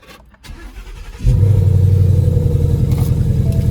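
A Ford Mustang GT engine cranks and fires up abruptly, then settles into a loud, close, deep idle rumble that holds steady.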